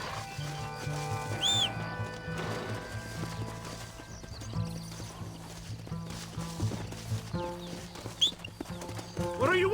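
Horses gallop in Red Dead Redemption, their hooves drumming steadily with an occasional whinny, over a background of dramatic music and brief shouted voices.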